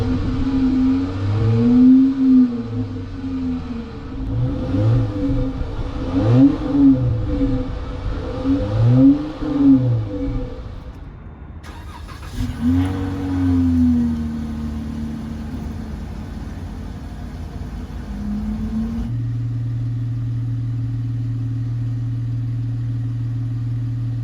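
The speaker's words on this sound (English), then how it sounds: "So after this, I'll show you a few revs." Dodge Charger with a modified aftermarket exhaust, engine blipped in several rising and falling revs close by, then a pause, another rev, and a steady idle drone to finish.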